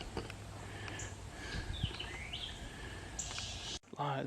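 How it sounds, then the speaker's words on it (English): Birds chirp and whistle along a wooded trail of eastern red cedar in Henry Horton State Park, Tennessee, under a darkening pre-storm sky; faint scattered calls and short rising tweets over quiet background, ending with a brief handling noise. "And I can hear the birds much better"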